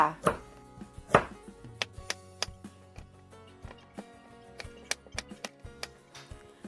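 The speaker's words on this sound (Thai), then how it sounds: "แล้วก็มาหั่นผักคะน้ากับหน่อไม้ฝรั่งจ้า" Sharp knife strikes on a cutting board chopping Chinese kale and asparagus, irregular but steady, close and fairly quiet, with a couple of heavier hits early on.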